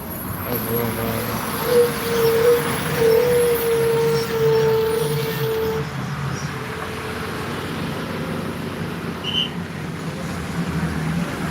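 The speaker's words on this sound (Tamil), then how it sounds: "கண்டெய்னர் பெரிய கண்டெய்னர்" A large container truck rumbles past on a national highway, a broad roar swelling and then easing off, with someone talking over the traffic noise.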